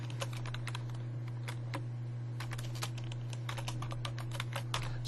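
Full name being typed on a computer keyboard, with quick, irregular clusters of crisp key clicks over a low steady hum.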